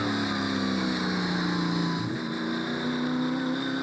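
Loud, steady roar of NZV8 race car V8 engines at Manfeild circuit with wheelspin and a rising, shifting engine pitch, sustained throughout and nearby.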